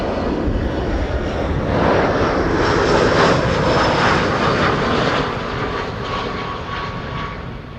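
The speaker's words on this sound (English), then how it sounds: "EasyJet arriving from London Gatwick, which is still open today." An EasyJet airliner arriving at Amsterdam Schiphol from London Gatwick, its engines a broad, steady roar that swells slightly mid-pass and then eases, heard continuously on a sunny day with no voices.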